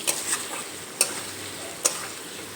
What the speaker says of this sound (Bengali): মোট 10 মিনিটের মতো আমি মশলার সঙ্গে আলুগুলো কষিয়ে নিয়েছি।